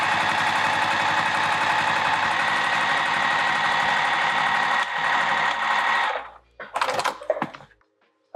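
A sewing machine runs a long steady burst of fast stitching on a vinyl handbag at about a 3 mm stitch length, then stops, followed by a few short clunks and handling sounds.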